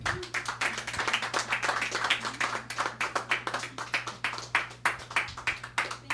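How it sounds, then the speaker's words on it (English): Clapping from a small audience at an open mic tribute event, a series of distinct, fairly close hand claps in a loose rhythm with a steady low hum running beneath. "Please give another round of applause for Giselle."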